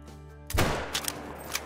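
A single loud, close crack from a 22-250 bolt-action rifle fired at a coyote about 60 yards away at night, a sharp blast followed by a fading rumble and echo.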